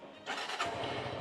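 A motorcycle engine catches and runs at a steady idle, close and fairly loud, after a short quiet start.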